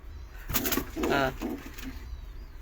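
Domestic pigeons in a loft give a short burst of throaty cooing, close and moderately loud, against a quiet background.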